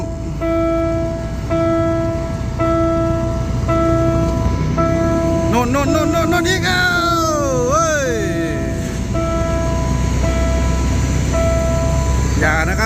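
Level-crossing bell rings in steady repeated tones, then a passenger train's horn sounds loudly nearby as a low engine rumble continues underneath.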